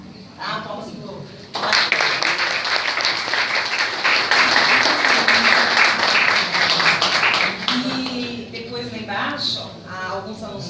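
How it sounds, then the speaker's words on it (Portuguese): Students in a classroom burst into loud, close applause after a short gap, sustained clapping that fades toward the end while voices chatter over it. "Palmas pro novo."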